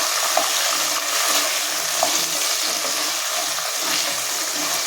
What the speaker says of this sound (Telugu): ఉల్లికాడలు, ఉల్లిపాయలు, పచ్చిమిరపకాయలు, ఇవి కూడా కొద్ది కలర్ వచ్చేదాకా వేపించుకోవాలి.